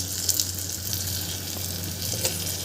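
Potatoes, cabbage and tomatoes sauté with masala in a hot pan, a continuous close sizzle with faint stirring scrapes over a short stretch.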